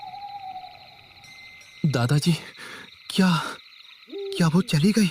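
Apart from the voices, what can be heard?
owl hooting in the distance at night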